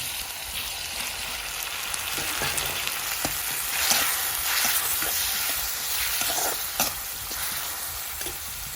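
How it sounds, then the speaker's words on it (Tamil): Onions sauté in a pan for crab gravy, giving a steady close sizzle and crackle with occasional stirring scrapes throughout. "வெங்காயம் நல்லா வதங்கி வந்துட்டுது"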